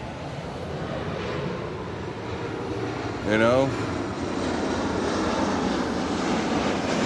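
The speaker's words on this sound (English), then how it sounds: "you don't have to fight the planes like I'm doing to try to make a video" Overhead airplanes keep up a steady, broad engine roar that lasts the whole stretch and swells slightly partway through, while someone talks briefly near the middle.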